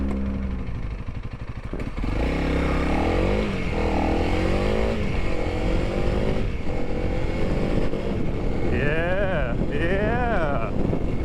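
A Honda CRF300L motorcycle engine drops through several downshifts, revs rising and falling in repeated sweeps close to the microphone amid wind buffeting, with a rider talking at times.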